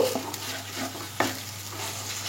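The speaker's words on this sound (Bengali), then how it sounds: "শুকনো করে ইঁচড়টাকে একটু ফ্রাই করে নেব।" Raw jackfruit kofta filling being mixed and dry-fried in a pan, with a few sharp scraping stir strokes over a faint sizzle and low steady hum, close and quiet.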